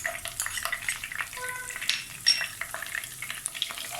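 Crushed garlic fries in hot oil for green mango pickle, with a crackling sizzle, while a utensil clinks and scrapes against the pan now and then.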